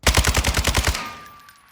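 An RPK machine gun fires a rapid burst of about nine rounds in Warzone 2, loud and close, then a short ringing tail as the shots fade out.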